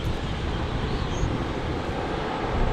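A JetBlue airliner at Fort Lauderdale International Airport gives off a broad, steady engine roar from a moderate distance, continuous and without talk.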